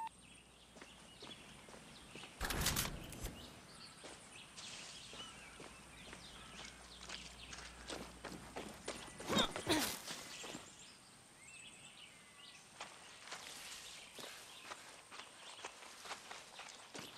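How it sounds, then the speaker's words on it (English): Horse hooves clip-clopping in Far Cry 6, a quiet run of rhythmic steps on ground with a couple of louder thumps and faint birdsong around them. "Instant horse."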